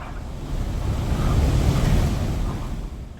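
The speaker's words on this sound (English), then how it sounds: "Torrential rains and waves towering at 8 meters." Cyclone Garance hits La Réunion in the Indian Ocean: storm surf and strong wind roar together in a loud, continuous rush that swells after the first half second.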